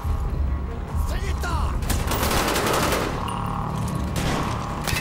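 Rapid gunfire bursts from the Call of Duty: Black Ops video game fill the whole stretch, loud and continuous, with explosive booms and game effects layered underneath.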